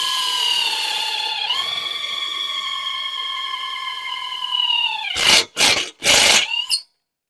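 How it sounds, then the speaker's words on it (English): A power driver whines as it sinks a screw into a rubber 7-pin plug protector, a steady rising tone that ends in three short loud bursts as the screw snugs down. "And go ahead and drive it in."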